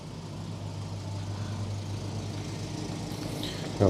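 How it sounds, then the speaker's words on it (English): Citroën GSA engine running steadily with an exhaust leak, a constant low idle drone throughout, fairly close and moderate in level, ending in a brief louder burst. "Still sounds like we've got an exhaust leak."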